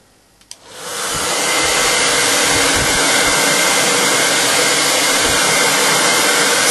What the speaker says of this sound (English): then we use the heat of a hairdryer.